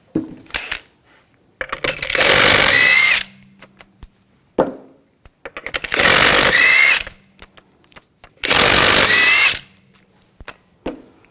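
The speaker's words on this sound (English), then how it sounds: "We're going to remove the wheel, use a 19mm socket. Take the lug bolts off." An impact power tool fitted with a 19mm socket spins off wheel lug bolts on a 2000-2006 BMW X5, three loud whirring bursts separated by pauses with small metallic clinks and handling noises.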